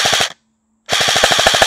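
Black Rain Ordnance BRO M4 airsoft rifle on a 7.4 volt battery firing two loud, rapid full-auto bursts, a short volley, a brief pause, then a longer steady stream of sharp, evenly spaced shots.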